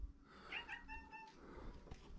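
A cat meows close by indoors in a farmhouse, a drawn-out wavering cry over a faint background hum, quiet but clear.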